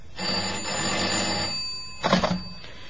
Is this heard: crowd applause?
no